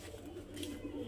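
Pigeons of a flying breed coo softly in a loft, a low murmuring coo under faint background noise.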